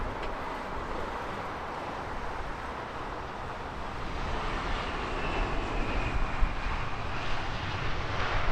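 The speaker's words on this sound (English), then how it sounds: "Turn our attention to the Japan Airlines A350." Japan Airlines Airbus A350 jet airliner at Heathrow, a broad rushing engine roar that swells slightly louder in the second half as it nears.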